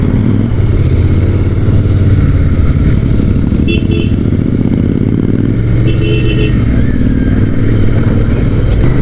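A Royal Enfield Interceptor 650 Mark 2 motorcycle engine runs loud and close during a winter ride, a steady rumbling drone with small rises in revs and faint clatter over the whole stretch.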